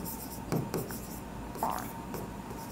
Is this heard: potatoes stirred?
no